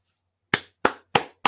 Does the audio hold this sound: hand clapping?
yes